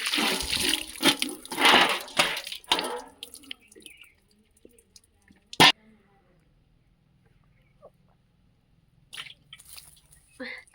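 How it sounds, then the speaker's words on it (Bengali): Running water splashes over a plate being washed, starting as bursts of rushing, splashing water that then fades into near silence with a sharp clack and a few faint drips and knocks. "এখন থালাটা ধুয়ে নিয়ে যাচ্ছি"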